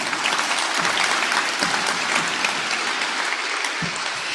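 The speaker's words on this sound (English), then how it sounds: "you can clap for that" An audience at a university athletics championship breakfast claps steadily, a dense, even wash of applause from a roomful of people that holds throughout.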